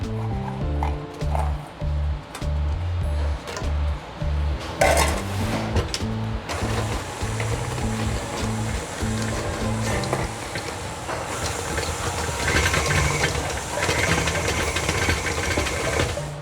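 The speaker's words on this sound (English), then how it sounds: "I'm gonna let the bowl or the mixer crush it for me" A stand mixer churns Oreo cookies into vegan brownie batter, its motor thumping in a steady rhythmic pulse, then turning to a brighter, busier grinding rattle as the cookies break up, close and loud throughout.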